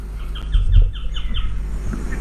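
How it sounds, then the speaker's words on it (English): Small birds chirp outdoors beside water at a campsite, a run of quick repeated high calls over a low rumbling background. "Can you hear the birds?"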